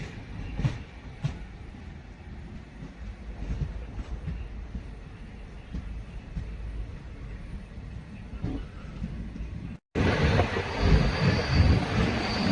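An Intercity Express train pulls away from Mararikulam railway station in Kerala, a steady rumble of wheels and carriage noise with faint clicks, heard from inside and growing louder near the end.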